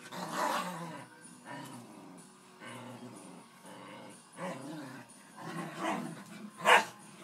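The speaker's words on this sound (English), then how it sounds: "The dog fights of the evening, huh?" Dogs fighting in a yard, with snarling growls and barks coming in repeated bursts across the whole stretch and a sharp, loud yelp near the end.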